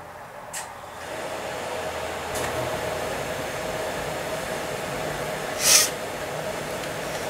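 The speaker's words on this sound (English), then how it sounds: "And here's where the blow dryer comes in handy." A blow dryer runs in a steady broadband hiss while drying a cleaned spinning fishing reel gear, with a few brief sharp bursts of air layered over the continuous airflow.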